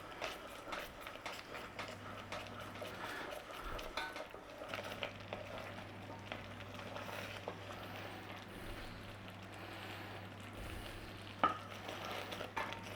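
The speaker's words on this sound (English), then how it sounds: "So just stir it in nice and gently till it thickens." Caramel with a pinch of salt is stirred gently in a pan on the flame, with soft repeated scraping and light bubbling over a low steady hum.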